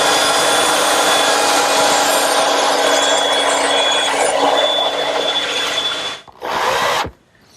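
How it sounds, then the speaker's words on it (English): A bandsaw trims wooden tenons on a rail for an umbrella stand, giving a loud, steady, broadband whine that runs continuously for about six seconds, then cuts out briefly, surges once more and stops. "unless I trim a little off at the bandsaw"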